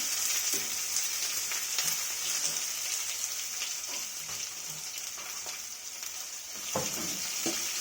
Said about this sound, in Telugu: కొంచెం బ్రౌన్ కలర్ వచ్చేంత వరకు వేయించుకోవాలి.